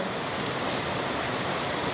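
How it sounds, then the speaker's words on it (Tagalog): Heavy rain pours steadily in Davao del Norte, a dense, constant roar of broadband hiss with no breaks, close and loud throughout. "Lakas ang ulan."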